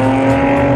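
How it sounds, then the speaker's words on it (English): A loud car roars past on a city street on a Saturday night, a close, dense engine rush filling the short moment with nothing else audible. "this car is really loud here"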